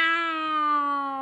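A voice imitates a cat's meow in a children's story read aloud: one drawn-out, clearly pitched meow lasting about a second, close and alone.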